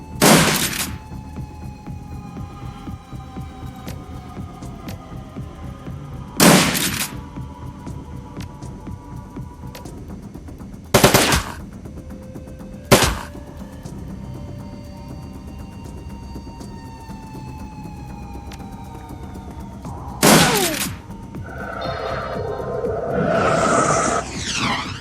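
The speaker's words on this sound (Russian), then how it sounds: "пулемет явно выглядит эффектнее" Bursts of automatic gunfire from a machine gun in the video game Shadowrun: Dragonfall, several short loud volleys spaced apart over a steady low hum, with a swelling burst near the end.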